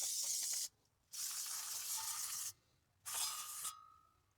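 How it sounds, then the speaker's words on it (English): Two long hissing bursts of brake cleaner aerosol spray on a 2010 Buick Lucerne's brakes, close up, separated by short pauses, with a brief short spritz at the start. "I'm gonna take my brake cleaner, spray it again."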